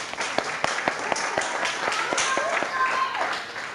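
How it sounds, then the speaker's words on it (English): An audience at a school award presentation claps for Year 6 graduates. The applause is a brisk, steady patter of many hands, fairly close, with voices faintly underneath. "give a round of applause for the Year 6 graduates"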